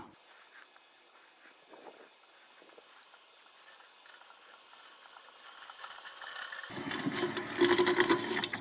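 A MOVA 600 robot lawn mower cuts grass, a faint mechanical whir with ratcheting texture that grows louder and rougher toward the end as it comes closer.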